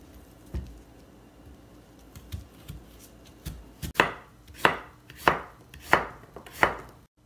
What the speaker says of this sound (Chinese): 把大萝卜切一下